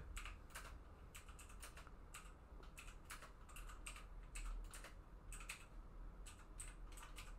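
Rapid, irregular clicking of fingers typing on a computer keyboard, steady and fairly close, with a low background hum and no talking.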